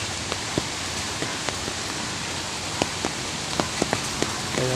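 Steady rain patters down at Masapang Bridge in Victoria, Laguna during a fishing session, a dense continuous hiss with scattered sharper drops striking nearby surfaces, with no talk.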